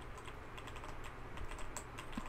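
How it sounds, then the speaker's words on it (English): Computer keyboard keys tapped idly in a steady patter of light clicks, faint and a little distant, continuing throughout without any voices. "If you've been hearing that little sound in the distance, that's me fidgeting with my keyboard."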